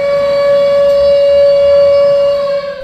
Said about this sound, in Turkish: saatler tam 9:05 geçe sirenlerin çalmasıyla tüm ülkede olduğu gibi Malatya'da da hayat durdu.